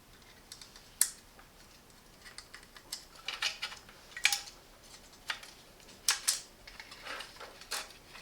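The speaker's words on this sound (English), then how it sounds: "Install one fan clip at the left and one at the right." Plastic fan clips snap and click onto a Be Quiet Pure Rock 3 LX cooler fan, a scattered series of sharp close taps and clicks with quiet pauses between them.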